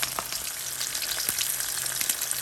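Fish frying in hot oil for a Jamaican-style brown stew, a close, steady crackling sizzle with scattered pops throughout.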